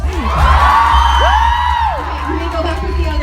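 A crowd at a drag event in Freehold, NJ whoops and cheers loudly with high shouted calls rising and falling, close and lively, with voices mixed into the noise.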